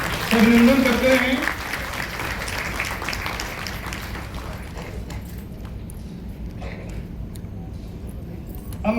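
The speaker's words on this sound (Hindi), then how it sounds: "तालियां अभिनंदन करते हैं।" Crowd clapping fills the room continuously at an award ceremony, starting louder alongside a brief voice and then settling into steady applause.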